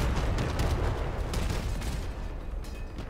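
Heavy Judge cannons fire in the vehicle combat game Crossout, three mounted together on a Harpy cabin, giving a dense, loud, continuous rumble of booming shots and blasts with a few sharper reports standing out.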